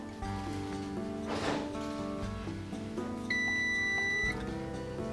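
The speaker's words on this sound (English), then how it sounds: "The Pellet Boss will beep 3 times as it's changing temperature" A Pellet Boss pellet grill gives a short series of electronic beeps as it switches to a new set temperature of 300 degrees, the tones clear and close over a steady background hum.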